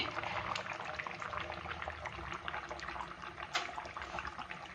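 Ola kodiyan fish curry bubbles in a clay pot after the heat is switched off, a soft continuous simmer of small pops and gurgles, close and fairly quiet.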